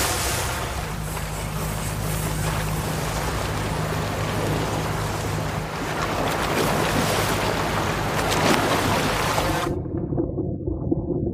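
Steady broadband roar of a fishing boat motoring through open water off the Philippines, with constant engine drone and splashing spray that cuts off abruptly near the end.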